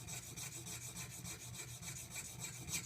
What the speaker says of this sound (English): move the chisel back and forth until I can feel a burr